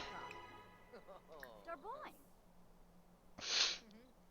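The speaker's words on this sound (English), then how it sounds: "I feel like I'm gonna sneeze again." A person sneezes once, a short sharp burst near the end, after a few seconds of quiet talking during a Sims 4 gameplay session.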